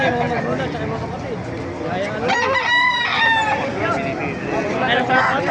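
Chickens clucking and a rooster crowing nearby at a market in Baliuag, Bulacan, loud and busy, with people talking over the birds throughout.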